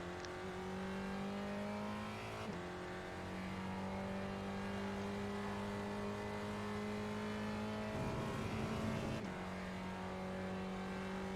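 Spec Racer Ford race car in the iRacing video game at Lime Rock, a steady droning engine tone with gear changes and brief rev shifts, constant and moderately quiet with no talk.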